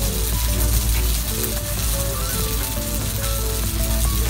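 Steady rasping clicks from a pepper mill grinding pepper over a pan where butter sizzles loudly underneath, with a continuous ratcheting rhythm throughout.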